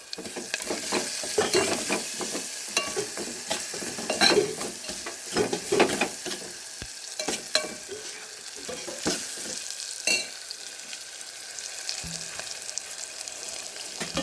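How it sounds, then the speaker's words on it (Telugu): Cumin seeds for a tomato rasam tempering stir-fry in hot oil in a pan, with a steady sizzle and repeated scraping strokes of a spoon throughout, close and fairly loud. "కొద్దిగా జీలకర్ర కూడా వేసుకొని మొత్తం కూడా తాలింపు అంతా కూడా బాగా యాగాలి"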